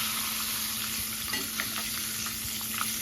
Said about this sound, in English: Once your wings start floating to the top, it's sort of like a deep fryer.